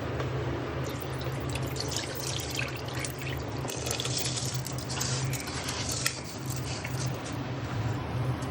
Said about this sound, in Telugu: నీళ్ళు వాట్ చేసుకొని యాడ్ చేసేసుకోండి